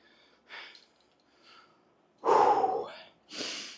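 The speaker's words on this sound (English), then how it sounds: "Sorry for the heavy breathing." After a rowing-machine workout, a person breathes heavily in separate bursts: soft huffs first, then a loud, close gasping exhale and a final breathy puff, with silence between them.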